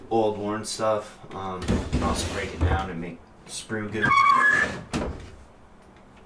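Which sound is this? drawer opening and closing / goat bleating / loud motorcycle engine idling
drawer opening and closing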